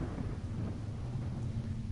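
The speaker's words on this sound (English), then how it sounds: "The rain gave me a terrible sense of foreboding, and it chilled me through my clothes." A heavy rainstorm in the horror game Home makes a dense, low rumbling wash like rolling thunder and steady rain, loud and continuous for a couple of seconds, with no voices.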